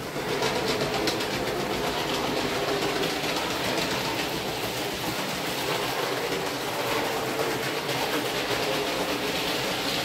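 A model train runs continuously with a loud, steady rumble and rhythmic clickety-clack of wheels on track, no voices.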